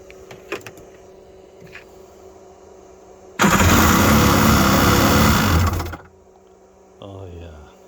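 A 1990s Yamaha SuperJet SJ650 two-stroke jet ski cold start: faint clicks, then a loud buzzing crank and engine burst for a couple of seconds that cuts off, followed by a brief quieter whir.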